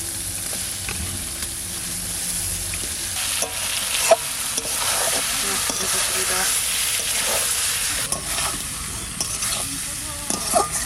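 Catfish and koi pieces fry in a pan with a constant crackling sizzle, with occasional louder spits and scrapes of a spatula over the steady hiss.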